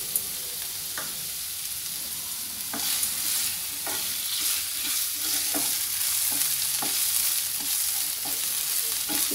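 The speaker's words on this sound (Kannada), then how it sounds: "ಇವಾಗ ಕಟ್ ಮಾಡ್ಕೊಂಡಿರೋವಂಥ ಆನಿಯನ್ ಹಾಕ್ತಾ ಇದ್ದೀನಿ" Chopped onions sizzle in a hot pan of oil while being stirred for a cauliflower and pea curry, with a steady frying hiss broken by repeated sharp scraping stirs.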